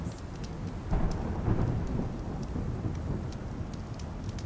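Thunderstorm in Horizon Forbidden West, with steady rain hissing and pattering throughout and a deep roll of thunder swelling early on, moderately loud with no talk over it.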